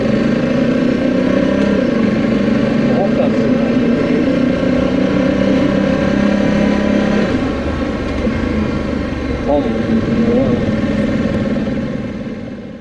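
A Honda Africa Twin CRF 1100 motorcycle engine in gravel mode runs loud and close, a steady droning tone that shifts pitch as it changes gear, then eases off near the end, with no talking.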